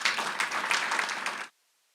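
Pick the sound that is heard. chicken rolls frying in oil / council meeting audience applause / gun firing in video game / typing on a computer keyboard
council meeting audience applause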